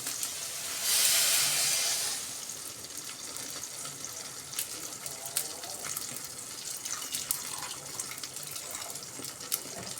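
Water poured into a cooking pot of spiced, salted food, a brief gushing splash near the start followed by soft hissing and small clinks close by.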